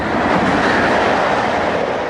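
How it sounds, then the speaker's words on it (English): A high-speed train rushes past close by on a main railway line in rural countryside, giving a loud, steady roar of wheels and air with faint rhythmic clatter, alone without talk. "It comes in at great speed, it's the high-speed train, and then goes very quickly."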